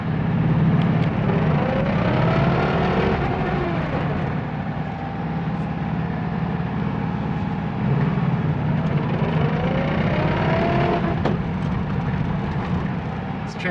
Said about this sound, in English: This transmission has a bad rattle in first gear.